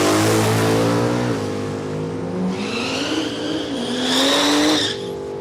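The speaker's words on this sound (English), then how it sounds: "Just wants to fry the tyres there." A drag racing car at Palmyra Raceway spins its tyres at the start line, a loud revving engine that climbs and drops while tyre squeal and screeching wheelspin rise over it, with no talk.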